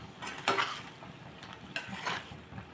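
Spoon stirring salt into an eggplant curry with raw prawns and eggs in a pan, producing soft scraping and clinking against the metal in a few uneven strokes, close and fairly quiet.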